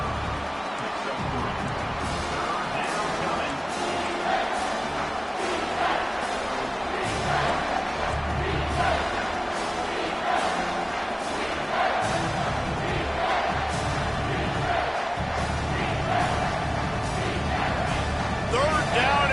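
A college football stadium crowd roars steadily on third down, a dense, loud wall of cheering and yelling from the stands that holds throughout, with a commentator's voice faint underneath.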